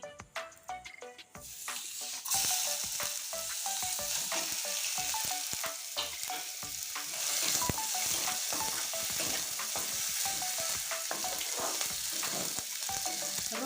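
Crushed garlic frying in hot oil in a pan, a steady close sizzle that jumps louder after a quiet start, broken by scraping stirs, with no talk.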